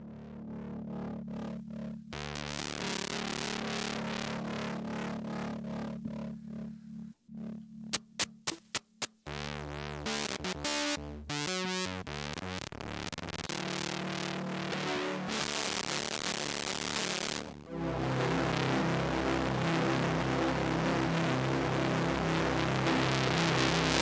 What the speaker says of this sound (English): So this is starting as a sine wave, and post-fuzz.